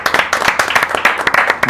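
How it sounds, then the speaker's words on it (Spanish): Audience applause welcoming a kung fu guest, Sifu Germán Bermúdez, onto a podcast: a dense burst of clapping from a small group, fairly close and steady throughout, with no speech over it. "Un aplauso para él."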